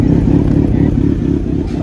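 A Kawasaki Ninja Z900 superbike engine rumbles loud and close in a steady idle throb, with voices mixed in over the engine.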